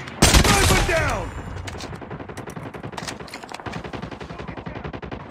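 Gunfire in the Call of Duty video game, a loud burst of blasts at the start followed by rapid, continuous automatic fire in a dense rattling stream.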